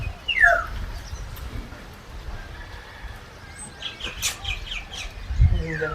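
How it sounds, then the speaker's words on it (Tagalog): Outdoor birds, crows among them, chirp in scattered calls: quick high tweets near the start, then more bursts of twittering later, with a low thump just before the end. "Yan ang maganda dito, maraming kikyaw, ibon-ibon, maraming uwak"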